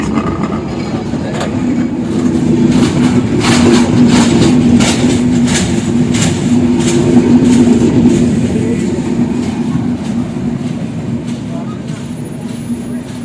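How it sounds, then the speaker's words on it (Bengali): A train on the Joydebpur to Sirajganj line rolls steadily on rails with a loud low rumble and repeated wheel clacks, building then easing off over the span. "দুই ঘন্টার পর আমাদের ট্রেন ছাড়লো"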